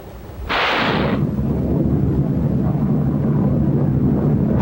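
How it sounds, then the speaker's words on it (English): Massed salvos from rocket ships off the Normandy beaches roar as a loud, sustained, heavy rumble, opening with a brief harsher burst and continuing as a continuous thundering barrage. "Now the rocket ships opened up, smashing at underwater obstacles and coastal mines"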